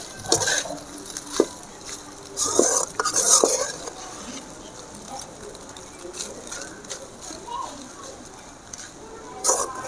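A spoon stirs mixed vegetable rice with a ground coconut and chana dal mixture in a pan, giving several sharp scrapes and clinks against the metal over a soft sizzle, close by, with a voice talking at moments.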